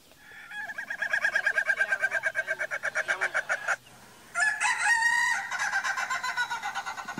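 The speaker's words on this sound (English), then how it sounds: "Did you know that that's a laughing rooster?" A recording of a laughing rooster plays alone, a long rapid series of staccato crowing pulses that break off, then resume in a louder, harsher burst trailing into more rhythmic cackles.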